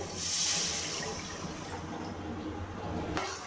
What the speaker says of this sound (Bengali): আর মিক্সিং জার ধোয়া জলটা আমি দিয়ে দেবো কড়াইয়ের মধ্যে